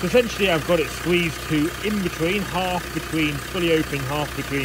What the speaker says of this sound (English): Sorry about the noise of my engine, I'm just warming the Defender up.